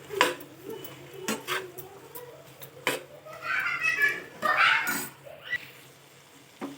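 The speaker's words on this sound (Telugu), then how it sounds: "మనం స్టవ్ దగ్గర ఉండి ఇలా కలుపుతూనే ఉండాలి లేకుంటే అడుగు అంటుతుంది" Chicken curry being stirred and fried in a pan on the stove, with a spoon scraping and clinking against the metal and bursts of sizzling frying, all close up with no talk.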